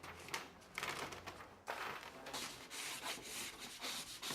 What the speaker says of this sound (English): Rub it down, keep on rubbing, make sure all the edges is down.